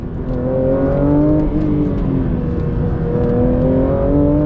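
Porsche 911 GT3 RS engine heard from inside the cabin, a loud, steady drone that climbs smoothly in pitch through gear pulls with brief dips between.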